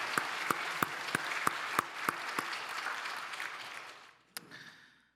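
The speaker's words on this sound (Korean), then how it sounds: "우리 이분들 위해서 한번 박수로 격려하십시다." Church congregation applauding at a Sunday service to honour retiring members: a steady clatter of many hands with sharp individual claps on top, fading out after about four seconds, followed by a final single clap.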